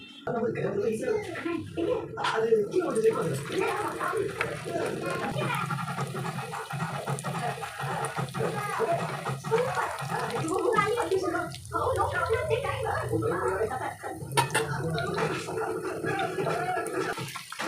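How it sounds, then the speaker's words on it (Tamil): Marinated chicken 65 fries in hot oil with a continuous bubbling crackle. A person talks over it almost throughout. "நல்ல சிக்கன் வந்து ஃப்ரை ஆகிட்டு இருக்குது"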